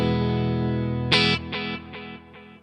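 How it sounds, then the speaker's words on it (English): An electric guitar played through a Kemper profiler with a delay effect: a sustained chord, then a sharp note whose echoes repeat about every 0.4 seconds and fade with each repeat. No voices. "I've got a delay set to foot switch 3, which I can turn on and off."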